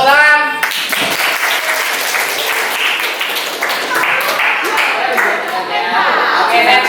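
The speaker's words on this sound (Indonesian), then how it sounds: "tepuk tangan" Schoolchildren in a classroom burst into clapping, a dense burst of many hands under excited voices and shouts that carry on over the applause.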